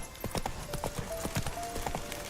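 Roach, the horse from The Witcher 3, gallops in a quick, steady rhythm of hoofbeats, the clip-clop close and clear over a faint background tone.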